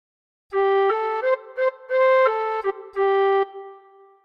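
A tin whistle plays a short phrase of the tune One Two Three Four Five: a run of clear, distinct notes in a lilting rhythm, some long and some brief, played alone and close.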